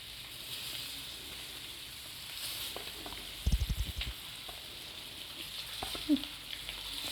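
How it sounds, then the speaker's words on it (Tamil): Boiled egg halves fry in oil with pepper powder over a low flame for egg pepper gravy. A soft, continuous sizzle is broken mid-way by a short burst of knocks as pieces are placed in the pan. "கட் பண்ணி எடுத்த முட்டையை இந்த மிளகுத்தூள்லேயே நல்லா ஃப்ரை பண்ணணும்."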